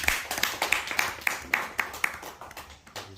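People clap during a Jamasan Keris heirloom-dagger cleansing ritual of the Osing community, about ten sharp, evenly spaced claps in a steady beat, close and moderately loud, softening near the end.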